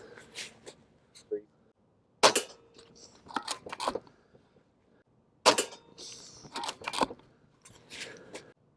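A Gamo Urban .22 air rifle fires pellets at a target, several sharp, close cracks spaced seconds apart, each followed by faint mechanical clicks and handling noise.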